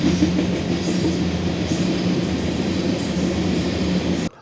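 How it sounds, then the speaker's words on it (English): Trains passing close by with a steady, loud rolling rumble and low mechanical drone that holds constant for several seconds before cutting off abruptly near the end, with no voices. "The trains are coming, so I want to stop the video for a few minutes here"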